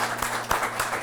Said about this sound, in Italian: c'è il pubblico che fa questo applauso